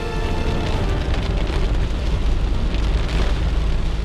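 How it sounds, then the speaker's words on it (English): Heavy rain pours down during a thunderstorm while backpacking at a trailhead, a steady dense roar that stays loud and unbroken throughout, with no voices. "I'm just letting the rain stop."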